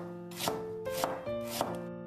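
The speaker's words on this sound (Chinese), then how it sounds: "切成姜片" A knife slices a piece of fresh ginger on a cutting board in three crisp, evenly spaced chops, close and fairly quiet, with a faint tonal hum behind.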